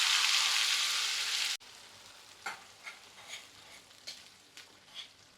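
Ground spice paste for Afghani egg masala sizzles in hot oil in a pan, a loud steady hiss at first, then quieter frying with intermittent stirring scrapes.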